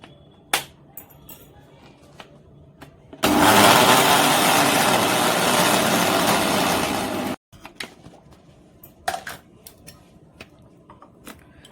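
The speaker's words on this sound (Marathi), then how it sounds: "थोडं थोडं पाणी टाकून आपण बारीक याची पेस्ट करून घेऊया।" A mixer grinder whirs loudly for about four seconds as it grinds jowar flour, semolina and curd with a little water into a fine dosa batter paste, then stops abruptly amid quiet kitchen clatter.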